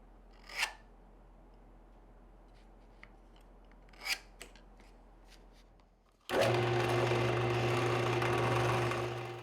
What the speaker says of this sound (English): And so I'm starting with drilling some holes.